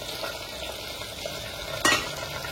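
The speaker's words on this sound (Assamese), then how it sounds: "এইফালে তেল একদম ফৰফৰাই উতলি আছে একদম চাউণ্ডটো মজা কৰি আছে" Hot mustard oil sizzles in a pan for handi mutton, a steady close crackle that flares into a sharp burst of spitting near the end.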